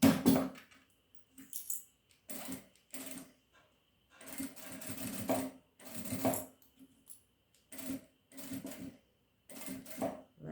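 A sewing machine stitching bias binding around a curve on a small fabric wallet, running in short bursts of rapid stitching separated by pauses, close and clear.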